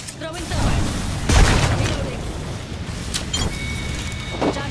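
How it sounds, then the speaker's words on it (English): A thermite grenade is thrown and bursts in the video game Apex Legends, with a loud booming blast partway through over an ongoing game soundscape, followed by smaller crackling impacts. "Throwing thermite."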